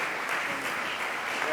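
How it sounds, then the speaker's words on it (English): Brief, fairly faint applause from a forum audience for gubernatorial candidates, a steady wash of clapping with no clear individual claps. "a big hand of applause for the candidates"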